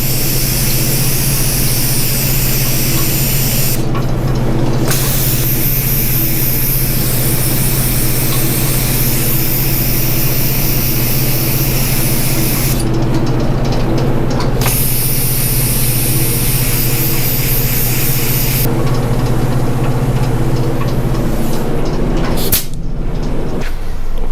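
Powder coating spray gun hisses steadily over metal swing arms, a loud continuous spray broken by a few short pauses, with a low hum underneath.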